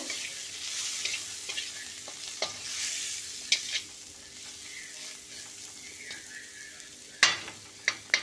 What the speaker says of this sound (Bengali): মশলাটি একটু নাড়িয়ে নেব পেঁয়াজটা ভেজে নেব